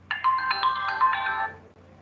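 Mobile phone ringtone sounding during an online engineering lecture, a bright melodic electronic tone ringing steadily for about a second and a half before cutting off, close and clear over a low steady hum.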